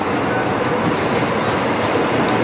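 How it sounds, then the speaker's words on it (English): A Line 1 subway train passes through Oksu Station, a loud, steady rumble and rush of wheels on track filling the whole stretch, close by with no break. "Yeah, there's a train, but it's not mine."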